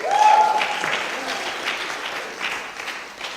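An audience claps in a loose, moderate round of applause that tapers off, with a lone voice briefly sounding at the start over the patter of hands.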